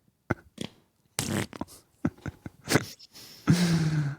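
A comedic fart sound effect played back on a broadcast replay: several short sputtering bursts, then a longer, louder drawn-out blast with a low buzzing tone near the end, heard up close without any speech.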